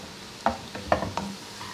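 Onions fry golden brown in a pan with a soft, steady sizzle, and several distinct stirring clicks and scrapes sound close up, without speech.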